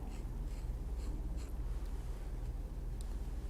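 Leather being tooled for saddle chaps, with soft, close scratching and pressing strokes in a quiet room, the steady working sounds running low and continuous for a few seconds.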